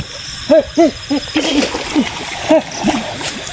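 Water splashes from a creature diving under in a video game, several short bursts spread through the clip, with hooting calls mixed in.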